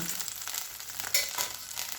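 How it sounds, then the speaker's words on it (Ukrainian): Beef sizzling and crackling in a hot pan, a short steady frying hiss with a brief clink partway through. "Наше м'ясо піджарилося, має шкоринку"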